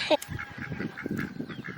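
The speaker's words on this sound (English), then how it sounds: "my duck, you can tell how absolutely upset she is" An upset female duck quacks loudly and repeatedly up close, a rapid string of harsh honking calls with a sharp squawk at the start.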